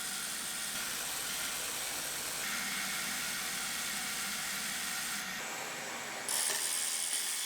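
A hand ratchet clicks away close by while unbolting the intake on a rebuilt Chevrolet Silverado engine, a continuous run of fine mechanical ticking that pauses and shifts tone near the end.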